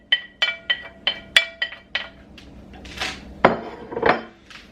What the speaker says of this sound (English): Go ahead and throw all your veggies into your pan